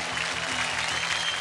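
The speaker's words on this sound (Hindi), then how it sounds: "जोरदार तालियां रणवीर भैया के लिए" Dense applause from a television talent show audience, steady and fairly distant, filling the whole moment without a break.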